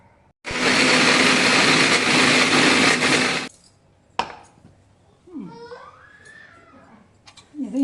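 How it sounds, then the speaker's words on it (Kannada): A mixer grinder whirs loudly for about three seconds while grinding grated coconut masala with coriander, then cuts off abruptly, followed by a clunk, handling noises and a soft voice. "ಮಿಕ್ಸಿ ಮಾಡ್ಕೊಳ್ಳೋದು"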